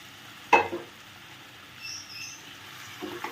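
An egg drops into hot oil with a sharp sizzling burst, followed by faint steady frying and a few soft stirring scrapes, quiet and close with no speech.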